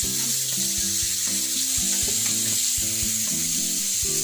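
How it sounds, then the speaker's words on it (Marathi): Pomfret fish frying in hot oil, a steady loud sizzle that runs throughout, with tonal background music layered over it and no talking. "तेल टाकल्यावर मग फ्राय करून बघा करून एकदा."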